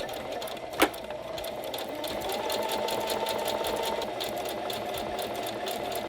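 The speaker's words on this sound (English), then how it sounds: "We're going to do a zigzag stitch down the seam allowance." A sewing machine runs a zigzag stitch along a fabric seam allowance, a fast even mechanical chatter after a brief click at the start, close and alone.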